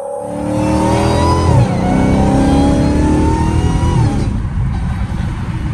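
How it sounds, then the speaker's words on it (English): A car accelerates hard on a highway, its engine revving loud and close with rising, sweeping tones that hold steady throughout, with no voices. "It's too easy to accelerate on this car"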